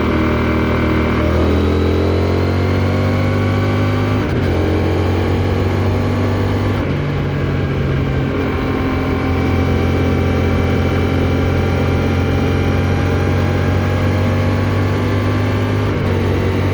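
A Honda Rebel 1100 motorcycle engine while riding, a loud, steady drone that rises and falls in pitch through gear changes, with constant wind rush and no talking.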